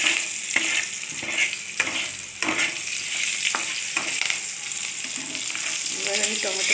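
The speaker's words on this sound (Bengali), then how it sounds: "টমেটো পেস্ট আর এটা দিয়ে দেবো" Tomato paste hits hot oil with dried chillies and five-spice seeds, giving a loud close sizzle while a spoon scrapes and stirs the pan in repeated strokes, with no speech.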